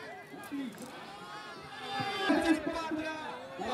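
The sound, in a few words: crowd at a bullock cart race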